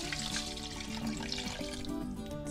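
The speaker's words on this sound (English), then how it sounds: "I think I'm going to add just a little bit of water." Water pours into a cooking pot while a pot of Hoppin' John with stripped meat is being made, a steady continuous splashing and trickling that runs unbroken and fairly close throughout, with no talking.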